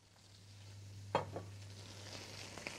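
Oxtail pieces browning in oil produce a faint, steady sizzle under a low hum, with one sharp clack of a utensil midway and a few lighter stirring taps.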